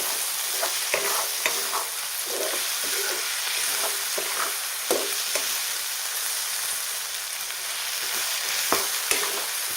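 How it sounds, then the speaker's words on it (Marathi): A mixed vegetable curry for the Bhogi festival, made the traditional way, sizzles steadily in a pan while a spatula stirs it with irregular scrapes and taps. The frying hiss stays loud and continuous, with no talking. "आता एकदा आपण भाजी किती शिजली बघूयात एकदा परत एकदा परतून घेऊया"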